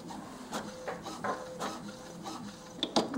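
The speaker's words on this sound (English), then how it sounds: "It prints out this paper with all of these lines." An HP inkjet printer running an alignment page: soft mechanical whirring and shuffling with repeated short bursts as the carriage moves, then a few sharper clicks of paper feeding near the end, fairly quiet and close.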